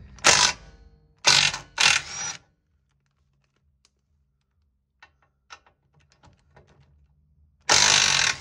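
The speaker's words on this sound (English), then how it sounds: "Now that we have the right socket, which is a 15," A ratchet with a 15 mm socket undoing bolts: loud, close bursts of rapid clicking, three early and one at the end, with faint small taps in the quiet between.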